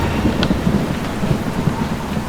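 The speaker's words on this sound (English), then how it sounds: "we have cooked these in a storm" Steady rain with rumbling thunder during a storm outdoors, a continuous dense wash with low rolling rumbles throughout, fairly loud and with no voices.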